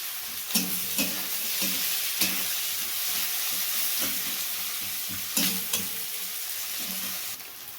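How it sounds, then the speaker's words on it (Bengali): Finely chopped onions fry in hot oil in a pan with fish chillies, giving a close, steady sizzle broken by regular scraping stirs; no one speaks. "গরম তেলে একেবারে প্রথমে মাছ লঙ্কাগুলো দেওয়া হলো তারপর ওই কুঁচো কুঁচো করে কুচিয়ে রাখা পেঁয়াজগুলো দেওয়া হচ্ছে"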